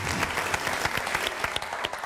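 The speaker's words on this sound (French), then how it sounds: "On va applaudir encore, s'il vous plaît, pour Emma Lolo, qui est avec nous." A talk-show studio audience applauds, a dense, steady patter of many hands clapping at close range, heard alone for about two seconds.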